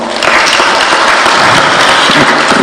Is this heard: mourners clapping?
yes